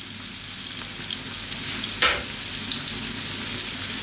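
Onions and plenty of garlic frying in a pan over medium heat, a steady close sizzle with a single brief scrape of a stir midway.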